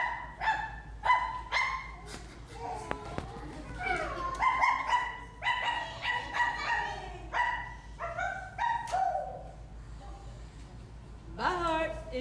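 A dog barks repeatedly in a live puppet show on an outdoor stage: a run of close, sharp barks and yips, some whimpering, then a pause and a final burst. A voice or a recording likely performs the dog's part.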